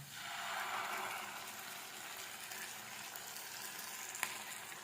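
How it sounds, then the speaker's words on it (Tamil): Ground masala paste for paneer masala frying in hot oil, a faint steady sizzle with a soft hiss, quiet and close, with a small clink near the end and no talk. "அரைச்சி வச்ச விழுது கொட்டி அப்படியே நல்லா வந்து எண்ணெயில் நல்லா வதக்கிடுது"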